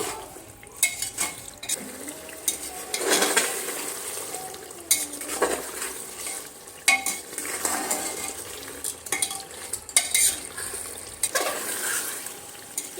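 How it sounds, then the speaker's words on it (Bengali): Chicken is sautéed with ginger and garlic for Bengali chicken kosha, a spoon scraping and knocking against the pot in uneven bursts over a light sizzle, close and fairly loud with no talking. "আদা রসুনটা ভালো করে কষিয়ে নিতে হবে"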